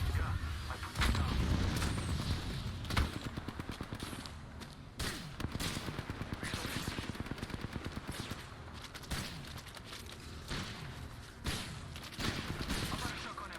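Gunfire in a video game shooter, including a shotgun: dense rapid bursts of shots and booms over a continuous rumbling battle din, with a voice talking faintly underneath.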